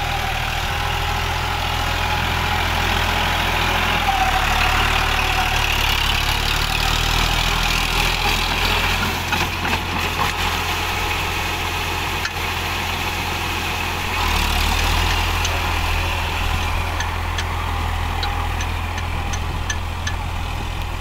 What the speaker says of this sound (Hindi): फोर व्हील ड्राइव जो ट्रैक्टर है वो सरवाइव कर रहा है पुडलिंग में